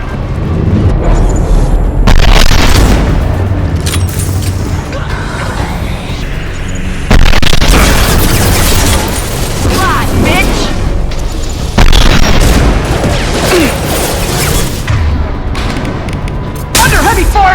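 Heavy gunfire and explosions in the video game Mass Effect 2, loud booming blasts and sustained bursts of shooting that come in waves, with combat voices calling out between the bangs.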